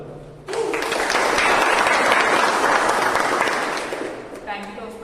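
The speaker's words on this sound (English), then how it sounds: "let's also welcome with a thunderous round of applause" Audience applause breaks out at a Toastmasters meeting, a sustained burst of dense clapping that starts abruptly, holds steady for several seconds and then tapers off, with a voice briefly audible at the start and end.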